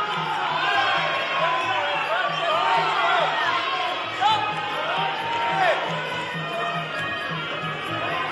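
Crowd noise at a Muay Thai fight in the Road to MTGP Australia event, a steady roar of voices with shouts and whoops rising in the final closing stages, heard continuously with some rhythmic low thumps underneath.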